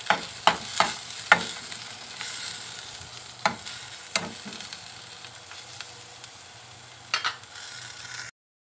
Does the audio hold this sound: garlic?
yes